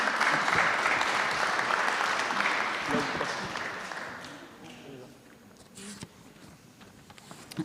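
An audience at a talk on unaccompanied minors claps in a sustained round of applause that is loud at first and then fades away over several seconds, with a few voices underneath.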